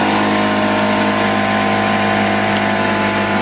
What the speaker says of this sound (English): I'm going to run my compressor for just a second or two here.